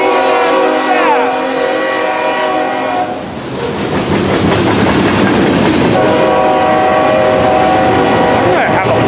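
A BNSF freight train led by an Ace locomotive, with a Union Pacific unit, passes loudly and close, its horn blaring before the roar and rumble of wagons take over.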